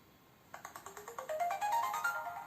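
A Life Balance Contact electronic device powers on with a short rising sequence of rapid electronic beeps, clear and fairly quiet against a faint background hiss.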